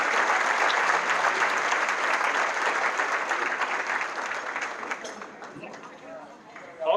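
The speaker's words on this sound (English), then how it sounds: "If everyone could please give a round of applause for the elected officials." Crowd at a county Republican event applauding elected officials, loud sustained clapping that gradually tapers off over several seconds.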